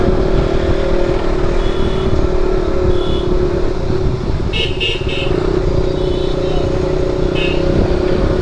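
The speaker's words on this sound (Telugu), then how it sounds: "సో ఇక్కడైతే చూడండి గాయస్ ఎంత ట్రాఫిక్ ఉందో" Busy road traffic on the drive from Rameshwaram toward Madurai, a steady loud wash of car and motorcycle engines with a few brief higher tones, continuous throughout.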